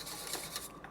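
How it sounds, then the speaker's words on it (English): Batter with vanilla being whisked by hand in a bowl, a steady scraping, whirring rasp that runs without pause for a moment, close and fairly loud. "I'm going to whisk this up."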